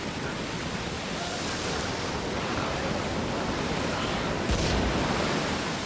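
Stormy ocean with wind: a steady, broad wash of surf and gusting air, fairly faint and distant, with a brief swell of louder breaking water near the end.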